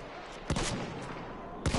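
Gunfire in a competitive video game match, with two sharp, loud shots about a second apart over a dense, steady bed of game noise.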